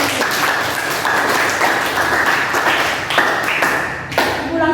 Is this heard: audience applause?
yes